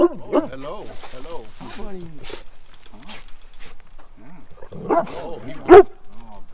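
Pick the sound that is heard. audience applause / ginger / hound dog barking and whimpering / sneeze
hound dog barking and whimpering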